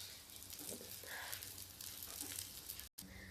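Rajma and sweet corn cutlets shallow frying in oil in a pan, a steady close sizzle with soft crackles that runs throughout and breaks off briefly near the end.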